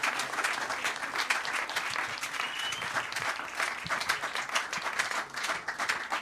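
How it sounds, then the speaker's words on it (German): An audience at an unplugged concert in the LUKE in Ludwigsburg applauds in a dense, sustained wash of clapping that stays steady and fairly close throughout. No speech cuts through it. "Vielen Dank, Momo, das ist ein Applaus."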